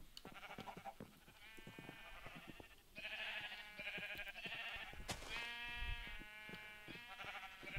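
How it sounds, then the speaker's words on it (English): Sheep bleat repeatedly, several overlapping calls coming close together, fairly faint and heard without any talking. "The noisy sheep."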